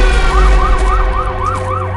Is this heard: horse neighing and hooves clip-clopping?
no